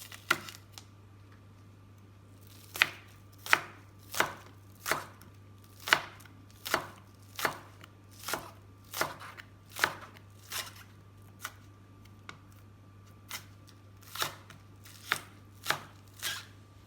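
A sharp knife chops spices for egg rendang on a board, a steady series of crisp, close knocks about one per second, strong and even, with no one talking.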